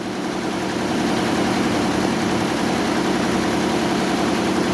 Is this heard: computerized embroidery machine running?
yes